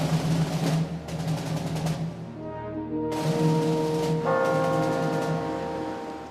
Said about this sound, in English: the sounds of bells rang across the city of Seoul.